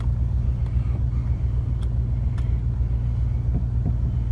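A car engine idles roughly at close range, a low, uneven rumble that stays steady throughout with a few faint clicks on top and no talking.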